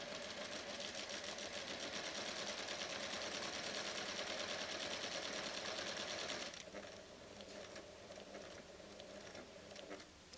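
A PFAFF creative 1475 CD sewing machine stitches rows of channel quilting with a fast, steady whirring patter, then drops to a lighter, slower run after a few seconds.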